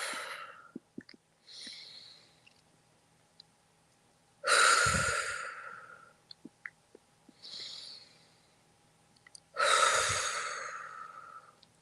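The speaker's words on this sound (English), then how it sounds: "let's take 3 deep breaths" Three slow deep breaths are taken during a healing prayer, each a long audible inhale followed by a louder, breathy exhale, close to the microphone in an otherwise quiet room with small clicks between them.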